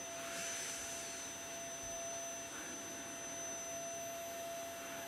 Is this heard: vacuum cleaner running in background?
yes